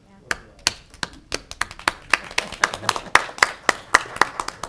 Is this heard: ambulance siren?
no